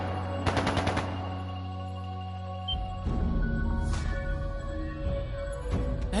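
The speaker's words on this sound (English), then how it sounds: "That sounded like gunfire." Gunfire in the Trails of Cold Steel 2 video game: a rapid burst of automatic shots, then scattered further bursts over a low rumbling game score, moderately loud, with no talking.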